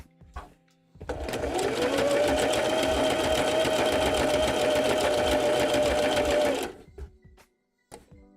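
A sewing machine stitches fabric for a puppet in one long, loud run of rapid even clatter, starting and stopping with a few quieter handling knocks around it.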